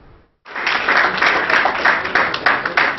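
An audience breaks into applause at a JCI Conakry Excellence handover ceremony, dense and loud clapping that starts abruptly after a short silence and carries on steadily.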